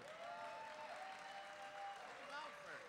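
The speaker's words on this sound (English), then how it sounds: "And the crowds go wild" Applause and cheering from a pageant crowd at the Miss Continental 2010 preliminary night in Chicago, a steady wash of clapping with shouts over it, and a voice talking on top throughout.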